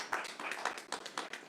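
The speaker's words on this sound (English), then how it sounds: "how about a round of applause for a good guy?" Applause at a live announcement event for a COVID-19 million-dollar grand prize, a short burst of quick hand claps from a small group, fairly faint and distant.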